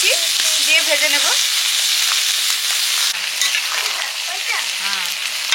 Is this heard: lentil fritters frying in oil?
yes